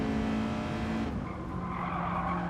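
Racing game car sliding into oversteer, an engine drone giving way to a tonal tire squeal that rises and holds, close and steady, with no voices.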